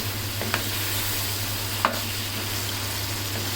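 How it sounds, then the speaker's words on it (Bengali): Spices and white pepper stirred in a pot of frying masala for Afghani Kabuli pulao give a low, steady sizzle over a constant hum, with two light utensil scrapes. "এখন এটা দিয়ে কিছুক্ষণ আবার নেড়ে চেড়ে মিশিয়ে নেব"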